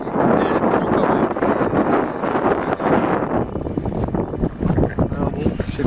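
Strong wind buffeting a tent during a trek in Norway, with loud gusty roaring and flapping fabric that swells and fades, close and rough, partly under talk.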